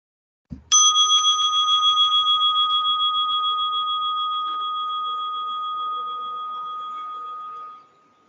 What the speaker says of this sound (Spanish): Vamos a escuchar la próxima campana.